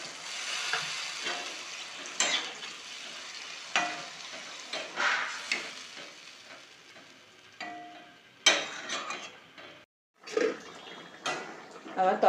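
Water added to a paneer curry in a hot pot, sizzling and hissing with a splash, stirring strokes and clanks of a utensil, then a brief pause before the bubbling resumes.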